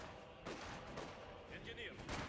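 Company of Heroes 2 battle gunfire crackles in a dense, continuous volley, with sharp rifle and machine-gun bursts layered over constant combat noise.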